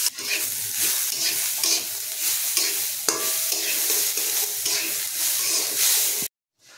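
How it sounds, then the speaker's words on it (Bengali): Moong dal frying in hot oil in a kadai, stirred with a spatula: a steady loud sizzle and hiss close up, overlaid with rhythmic scraping strokes, cutting off sharply at the end. "দিয়ে আমরা মুগ ডালটা কিছুক্ষণ তেলে ভেজে নেব। আর খুন্তির সাহায্যে একটু নাড়িয়ে নিতে হবে যাতে না কড়াতে লেগে যায়।"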